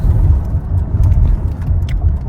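A car drives and turns at a chowk, its engine rumbling low and steady from inside the cabin, with faint road and interior noises and no talking.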